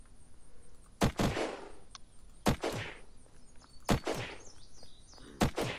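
Automatic gunfire in Unturned, four sharp, loud bursts of rapid shots spaced about a second and a half apart, each ringing out with a short echoing tail over a quiet background.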